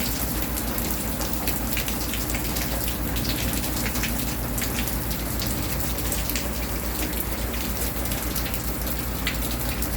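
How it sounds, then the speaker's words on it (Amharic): Heavy rain pours down steadily in a dense, continuous wash of drops striking surfaces, loud and even throughout with no voices. "እንደዚህ አይነት ዝናብ ሲጠል"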